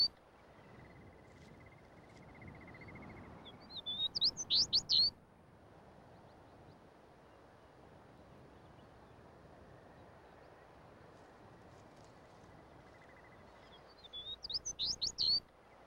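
A Smith's longspur sings on open tundra, two short bright bursts of song several seconds apart over a low, steady background hiss.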